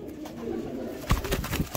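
Domestic pigeons in a rooftop loft, including a female with her mate, cooing in low soft murmurs that swell and repeat near at hand, with rustling and light knocks around them.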